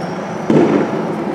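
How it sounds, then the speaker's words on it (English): A single muffled fireworks burst thumps at some distance during a Fourth of July evening, a brief boom that fades over a steady low background hum. "And I can see the fireworks action."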